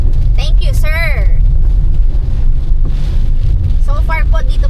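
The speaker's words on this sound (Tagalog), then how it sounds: "mahangin, malakas ang ulan." Loud, constant wind roaring against the microphone with a heavy, rumbling wash of pouring rain at a campsite in Tanay, while a person speaks over it.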